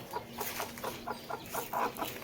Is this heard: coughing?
no